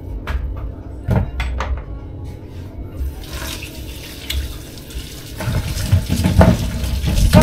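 Pumpkin being washed under a running kitchen tap, with steady water splashing into a sink and a few sharp knocks and clatters early on, growing fuller and louder toward the end.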